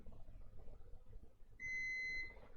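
A multimeter continuity tester beeps once through a replacement fuse from a PS5 power supply, giving a single clean, steady tone about half a second long over quiet room hiss.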